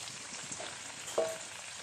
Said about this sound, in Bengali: কালো জিরেটা ফুটে গেছে, আমি ঝিঙেটা দিয়ে দিলাম